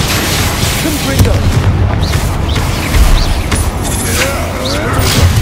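Confringo fire spell blasts in the Hogwarts Legacy video game, a dense rumbling boom-heavy battle din with bursts and pops throughout, loud and continuous, layered with game effects.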